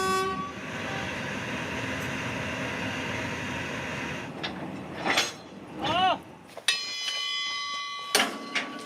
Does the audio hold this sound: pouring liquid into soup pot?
no